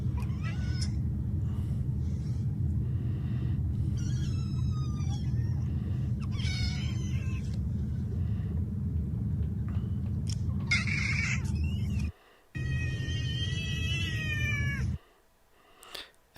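A pet cat meows repeatedly, loud and close, in a string of drawn-out, wavering cries over a steady low hum, with brief silent gaps near the end.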